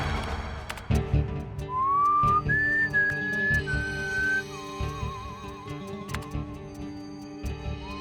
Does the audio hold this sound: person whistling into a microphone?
yes